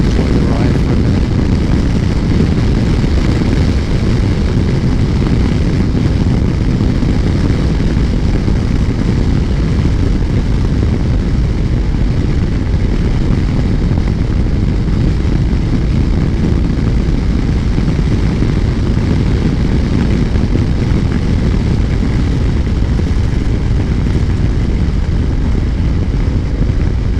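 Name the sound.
BMW R1250GS motorcycle riding on Wiltshire country roads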